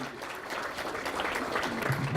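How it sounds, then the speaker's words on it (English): Applause from an audience greets a student walking up to lead the Pledge of Allegiance at a school event, a short steady burst of clapping from a moderate crowd. "let's give Allison Frazier a hand as she comes to do our Pledge of Allegiance"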